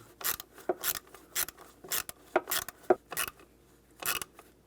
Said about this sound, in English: you can tighten that worm clamp down